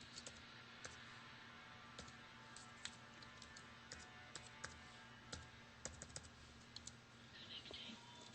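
Password being typed on a Microsoft Surface Pro keyboard: a quiet, irregular run of light key clicks spread across several seconds over a steady low background hum.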